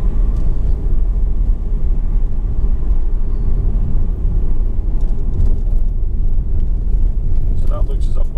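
A car rolling slowly on the Electric Brae slope at Croy, South Ayrshire, Scotland, heard from inside as a loud, steady low road rumble and engine hum, with people talking over it.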